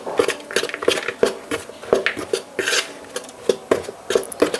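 Spoon scraping and clinking against a bowl while chopped dates and walnuts are stirred into chocolate banana cake batter, a steady run of close, rhythmic scrapes and taps.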